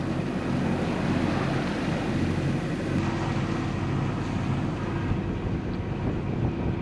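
A sailboat motors at sea with the mainsail down, near Kragerø: a steady low engine drone runs throughout, mixed with wind buffeting the microphone and the wash of calm water, with no talking.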